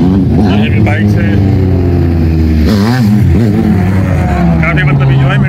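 A motorcycle rides along the seafront at Do Darya in DHA, Karachi, amid a busy Sunday crowd, its loud engine droning close by and rising and falling in pitch as it revs and passes.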